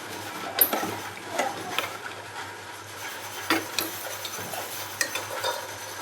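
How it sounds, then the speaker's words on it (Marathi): Kheer being stirred in a pot after water is poured in, with scattered soft scraping and clinking of the spoon against the pot over a low steady simmer. "छान पाणी टाकून हलवून घ्यायचं आहे पुन्हा एकदा आपल्याला."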